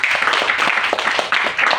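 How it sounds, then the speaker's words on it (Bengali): Loud, dense applause from a seminar audience on stem cell nutrition, steady crowd clapping filling the room throughout with no break. "জোরে একটা হাততালি দেন।"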